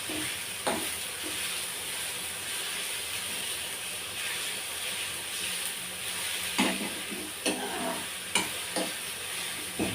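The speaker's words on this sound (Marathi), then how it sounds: "म्हणून रगडायचं पटकन नरम होतात टमाटे" Tomatoes for ragda being mashed and stirred in a hot pan, with a steady sizzle and hiss under occasional soft scraping thumps of the spoon, close up and continuous, no talking.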